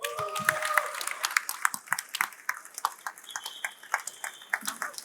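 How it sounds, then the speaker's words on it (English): Audience applause and scattered cheering for the winner of a startup pitch competition at a gaming industry conference, steady crowd clapping with a few sharp individual claps throughout, close and moderately loud. "A round of applause"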